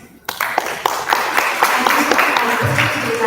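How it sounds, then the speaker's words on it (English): After a brief quiet moment, an audience at an international academic conference on quantum computing and cybersecurity bursts into applause, sharp individual claps standing out from a full, sustained clapping crowd. "Let's give a round of applause, please."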